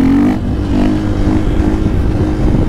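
A motorcycle engine revs hard and accelerates while the rider pulls a wheelie, a loud close continuous roar with a throaty low drone throughout.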